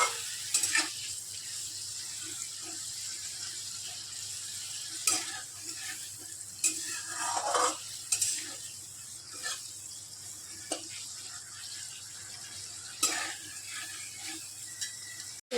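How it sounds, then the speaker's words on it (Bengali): Spices and tomato with a splash of water frying in a pan for chana dal, a soft continuous sizzle broken by repeated scraping stirs and occasional clinks of the spoon, with no one talking. "এটা এই মশলাটা একটু হালকা হালকা করে একটু কষতে হবে"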